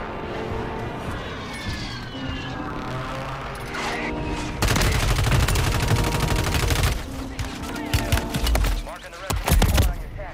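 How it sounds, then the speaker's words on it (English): Rapid automatic gunfire in the video game Warzone 2, loud bursts of shots aimed at the player, continuous and dense with sharp impacts and crashes near the end. "Who the fuck is shooting me?"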